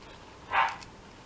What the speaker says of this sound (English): And that's Timmy barking in the background.